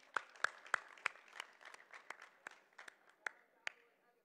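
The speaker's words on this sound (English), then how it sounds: "Can we clap it up for them" Audience at a school's annual fundraiser claps for students opening the evening, a scattered, fairly quiet round of applause with sharp individual claps that thins out over a few seconds.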